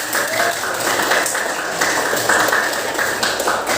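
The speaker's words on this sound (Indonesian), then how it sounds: "Tepuk tangan dong buat Ajeng yang lebih meriah lagi." Students in a classroom applaud the best group with dense, continuous clapping. The sound stays close and fairly loud for the whole stretch, with no talking over it.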